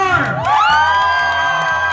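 A beauty contest audience cheers loudly for candidate number one, mixing shouts and whoops in a short, dense burst of crowd noise close by.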